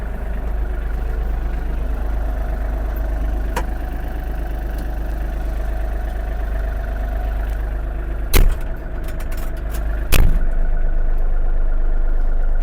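A Yanmar US-330 mini tractor engine runs steadily with its power take-off shaft disengaged, a constant low drone holding at an even level, with a couple of brief sharp clicks or knocks late on.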